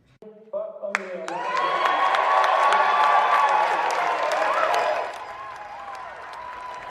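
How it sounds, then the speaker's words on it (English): A large indoor crowd at the Negro Leagues Baseball Museum erupts in loud, sustained cheering and applause when Buck O'Neil is named a Hall of Famer, swelling after a brief buildup and easing slightly near the end. "This was the crowd this evening when they officially said his name, Buck O'Neil"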